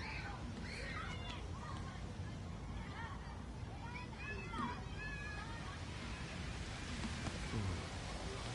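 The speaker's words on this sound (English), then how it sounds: "Looks like rain's coming." Rain in the video game Heavy Rain on PS4, heard as a soft, continuous wash with faint chirps and ambient sounds layered through it at low volume.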